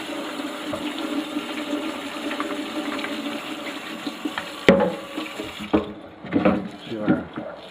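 Burdock roots rinsed under a running kitchen tap: steady water hiss for about five seconds, then the flow cuts and uneven splashes and handling knocks follow, close by.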